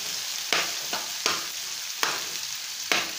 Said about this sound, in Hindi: अब थोड़ी शिमला मिर्च थोड़ी सी पक जाएगी